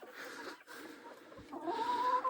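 Chickens cluck softly nearby, a few short murmuring calls with a higher, drawn-out cluck toward the end; quiet overall.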